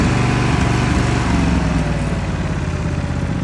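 A Lesco 48 lawn mower engine runs loud and close with a steady, dense drone and a slight dip in level partway through, with no voices.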